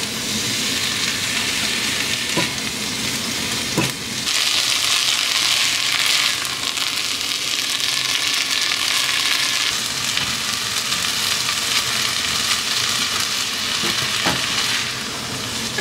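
Lentils hit a hot pan and sizzle loudly and steadily for a long stretch, with a few sharp clicks and scrapes of stirring and no voices.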